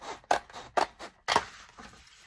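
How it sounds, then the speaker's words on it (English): Scissors snip through a tissue-box cardboard panel in four or five crisp, close crunching cuts at an uneven pace, with no talk. "So I'm going to cut off this back panel completely."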